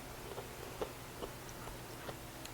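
Crunchy fried yellow squash fritters being chewed, soft repeated crunching bites at an irregular pace, close but quiet over a low background hum, with no talking.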